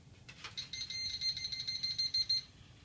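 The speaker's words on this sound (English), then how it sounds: "It sends off an alarm. That'll keep ringing." A water leak sensor alarm on a hot water heater beeps in a high, rapid, steady electronic pulsing pattern for about two seconds, fairly quiet and close, after a few brief clicks.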